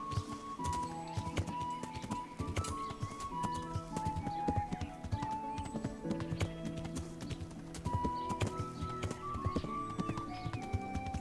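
Horse hooves clip-clopping steadily in the medieval game Kingdom Come: Deliverance, a close, continuous rhythmic beat with an occasional whinny over busy game sounds and music.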